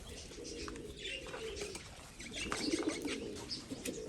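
Nearby pigeons coo in low rolling throaty phrases, joined by faint chirps and a brief flutter of wings, with no voices over them.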